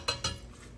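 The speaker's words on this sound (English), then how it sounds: "Remember to keep stirring it so nothing sticks to the bottom, nothing scorches." A utensil stirring simmering soup in a pot gives two quick close clinks against the metal, then a faint hiss fades out.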